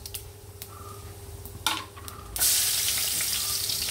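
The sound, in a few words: cumin and crushed garlic sautéing in a pan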